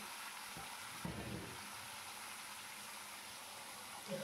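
Spiny gourd pieces dropped into hot mustard oil in a wok, frying with a steady, close hiss and crackle, with a brief louder sputter as the vegetables hit the oil.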